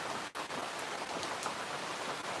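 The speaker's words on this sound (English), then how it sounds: "it is actually getting a bit louder out here with the rain. Rain's getting a bit heavier." Heavy outdoor rain pours in a dense, steady hiss with scattered drop patters, loud and close throughout, without talk.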